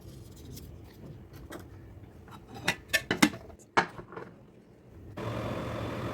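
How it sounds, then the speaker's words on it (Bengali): Mango and green coconut milk pudding turned out onto a plate, heard as a cluster of close clinks and taps of dish and utensil with a soft slide, then a steady hiss near the end. "এবার আমি প্লেটে ঢেলে নেব পুডিংটা।"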